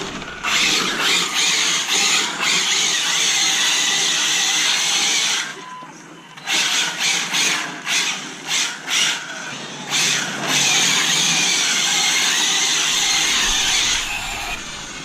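An Arrma Infraction RC car drives hard with its tyres spinning and scrabbling on the surface, a loud gritty rasp and motor whine in bursts, dropping briefly around the middle before surging again.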